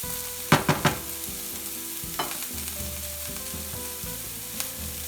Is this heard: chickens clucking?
no